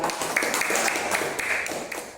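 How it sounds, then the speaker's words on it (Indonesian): Pupils in an elementary school classroom clap for a classmate, a quick run of sharp, scattered claps at moderate distance with little talk. "beri tepuk tangan pada Mas Asul"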